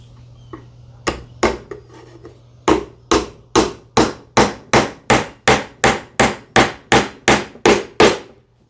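A hammer drives ridged trim nails into a wooden birdhouse. It starts with a few scattered knocks, then settles into a steady run of about a dozen sharp, evenly spaced strikes, close and loud.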